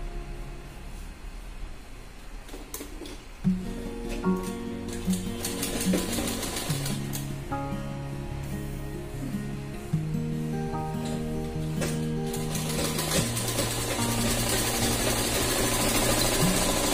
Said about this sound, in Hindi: ऐसे फिलहाल मैं कच्ची सिलाई मार देती हूँ।